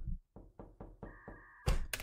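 A series of knocks on a window, about five hollow raps in a quick uneven rhythm, close and fairly loud, followed by a brief sharper clatter at the end.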